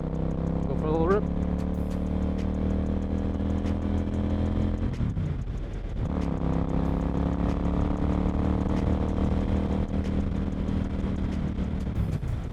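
A motorcycle engine idles and runs steadily at close range with a constant low drone, dipping briefly in the middle before settling back to a steady rumble.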